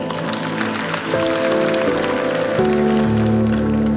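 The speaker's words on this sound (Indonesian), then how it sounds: "kasih tepuk tangan untuk Tuhan" Congregation applauding at a church service, a steady wash of clapping spread across the room and filling the whole stretch, with sustained organ or keyboard chords ringing underneath.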